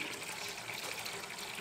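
Water runs steadily from a kitchen tap in a continuous broadband rush, close and even throughout, with no voices.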